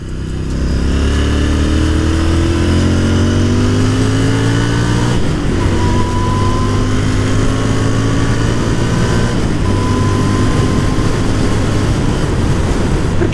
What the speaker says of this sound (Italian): Un bel rumore proprio sto scarico, devo dire.